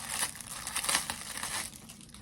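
Crinkly plastic packaging around a headband being pulled open and crumpled, a steady run of close, loud rustling and crackling with sharp crinkles and no talking.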